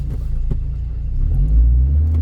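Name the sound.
2005 Chevy Colorado engine cranking and starting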